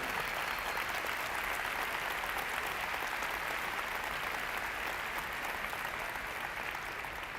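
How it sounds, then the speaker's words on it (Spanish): A large audience at a TEDx talk applauds steadily, a dense, even wash of clapping that holds at the same level from start to finish with no talking. "Yo les agradezco sus aplausos"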